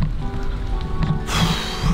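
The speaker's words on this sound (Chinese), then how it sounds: "出来天气又下雨" Rain falls outdoors on a trip in Japan, a dense hiss of drops on surfaces that brightens and swells partway through.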